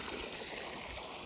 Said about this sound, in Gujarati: અહીંથી આમ જાય છે પાણી.